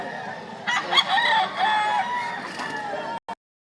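A rooster crows loudly and close by at a poultry market in Lipa, Batangas, a long drawn-out call, then a brief clipped sound before silence.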